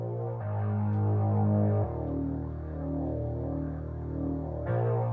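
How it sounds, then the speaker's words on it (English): Two deep synth bass tones play together in sustained, droning notes that shift pitch partway through, with no talking. "brought the other bass sound, so you've got the two bass sounds together"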